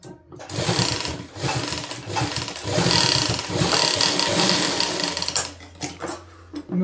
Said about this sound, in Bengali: যেভাবে মাথার দিকে সেলাই করা ছিল ওইভাবে সেলাই করে নেব